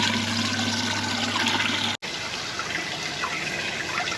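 Water rushes steadily out of a water heater tank being flushed, carrying sediment down a drain, a loud continuous splashing and gushing close by with a brief cut partway through.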